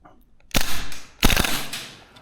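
A VFC URGI V3 gas blowback airsoft rifle fires on semi-auto. Two loud, sharp reports with a mechanical clack sound close by, about 0.7 seconds apart, each trailing off briefly.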